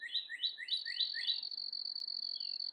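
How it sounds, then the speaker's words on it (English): Songbirds chirp at sunrise in a garden, a quick run of repeated bright trills up front giving way to a steady high whistle-like tone, fairly close with no talk. "we have lots of birds tweeting."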